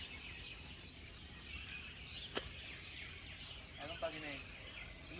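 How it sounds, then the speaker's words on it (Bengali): Birds chirp by a lake on an island at Rangamati, faint scattered tweets over a steady outdoor hiss, with one sharp click and a brief call near the end. "পাখির এত বেশি কিচিরমিচির শব্দ"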